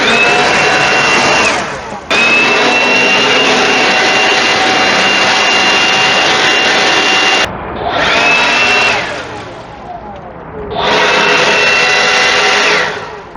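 DeWalt 20V MAX XR cordless leaf blower clearing stuck bamboo leaves, a loud high-pitched whirring motor that runs in long bursts, briefly cutting out and spinning back up several times, close to the listener.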